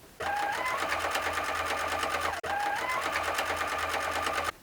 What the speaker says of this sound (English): I'm just going to move forward with my hand wheel